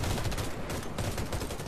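Rapid automatic gunfire in a Warface team deathmatch, a tight run of loud, overlapping shots filling the whole moment with no speech.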